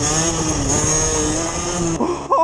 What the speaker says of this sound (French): Un wheeling debout.